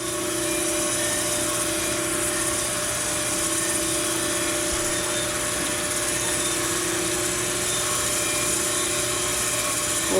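A grinding wheel touches the radius of a crankshaft journal during a plunge grind on a crank grinder, giving a steady, loud mechanical whine and hum with sustained tonal ringing that runs unbroken throughout, with no talk.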